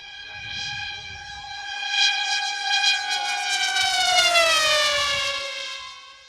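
A Sting interceptor drone whining past at 250 km/h, a rising, piercing tonal buzz that swells louder and bends in pitch as it flies by.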